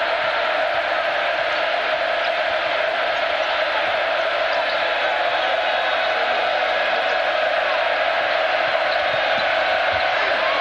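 Basketball arena crowd in a 2006-2007 college game between Oklahoma State and Texas A&M, a steady loud roar of cheering fans that holds without pause throughout.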